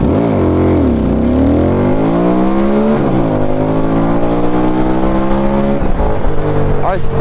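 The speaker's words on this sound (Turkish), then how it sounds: "Motorumuzu çalıştıralım." A Musatti Dark Pow 250cc chopper motorcycle accelerates hard up a steep hill, its engine climbing steadily in pitch, dropping briefly at a gear change and rising again. The revving stays loud and continuous throughout.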